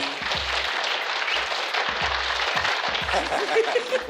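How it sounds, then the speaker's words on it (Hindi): An awards-show audience claps continuously, a broad crowd applause mixed with low thumps and a voice over it. "दोस्तों तालियां बजाइए, तालियां बजती रहनी चाहिए"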